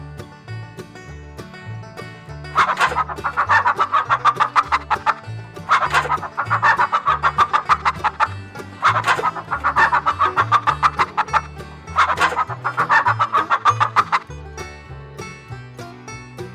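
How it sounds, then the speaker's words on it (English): A chicken clucks in repeated bursts of rapid, close, fairly loud calls, separated by short pauses, with no voices. "Chicken."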